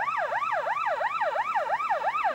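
An ambulance siren wails in a steady, repeating up-and-down sweep, loud and fairly close, with no voices over it.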